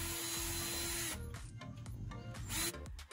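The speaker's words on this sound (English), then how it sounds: "I'm working on the second batch of the braces and really drilling the pilot holes" A power drill boring pilot holes in pallet wood braces for a shop rack whirs loudly for about a second, then gives way to shorter bursts, clattering wood and handling noise, close up with no talking.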